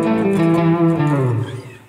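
Electric guitar plays a short bluesy phrase from a solo, sustained bent notes sliding downward with a warm overdriven tone, close and alone.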